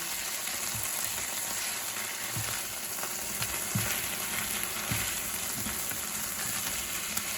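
Flat iron steak sizzles in a hot pan with a steady, dense hiss and faint crackles, close and constant throughout with no one talking.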